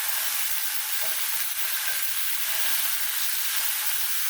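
Sausage browns in a frying pan with a steady, close hiss of sizzling fat that runs unbroken throughout, with a couple of faint low knocks partway through and no talking.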